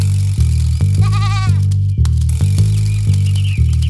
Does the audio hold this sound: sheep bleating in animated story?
yes